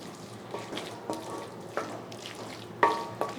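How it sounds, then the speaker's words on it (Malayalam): A spoon stirs a chicken mixture with milk in a pan over a low flame, giving soft, intermittent scrapes and quiet sizzling, close and faint. "ലോ ഫ്ലെയിമിൽ ഇളക്കി കൊടുത്തിട്ട് ഇനി ഇതിലോട്ട് പാല് ചേർത്ത് കൊടുക്കണം"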